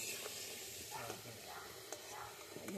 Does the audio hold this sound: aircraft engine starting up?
no